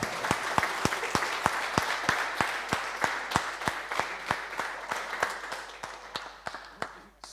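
Small group at a landing accuracy competition clapping in unison, a steady rhythmic beat of sharp claps about three per second, moderately close, continuing for several seconds and thinning toward the end.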